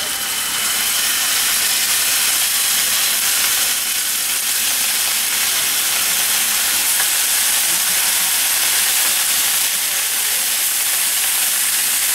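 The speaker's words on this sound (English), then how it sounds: "put 1 tablespoon of oil. Oops. Fry the pork." Pork frying in a tablespoon of oil in a pan for a pork steak donburi, a loud continuous sizzle and hiss that stays steady throughout with no talking.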